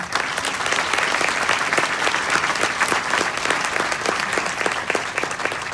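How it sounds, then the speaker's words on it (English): Audience applause at a University of San Diego School of Law distinguished alumni award ceremony, a dense, steady wash of many clapping hands sustained throughout at even loudness. "I wanna give you a round of applause"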